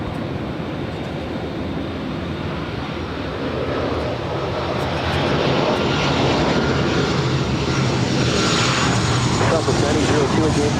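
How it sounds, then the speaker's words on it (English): An SAS Airbus A350-900 rolls down runway 24 left at LAX for takeoff, its engine roar building into a steady, broad wash that grows louder over the second half, with no talk over it. "Heading back to Copenhagen at A350-900 with the SAS Scandinavian rolling down"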